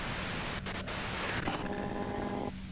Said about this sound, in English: you can do it through the white noise